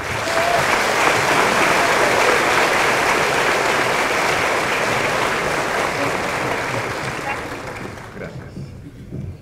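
Loud, sustained clapping from an audience at a professional association's graduation ceremony fills the hall, holding steady for several seconds before tapering off near the end.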